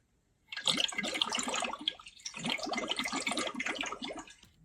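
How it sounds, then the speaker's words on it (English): Water splashing and sloshing in two long bursts separated by a short pause, close and fairly loud. "I got a splash from a big blue whale."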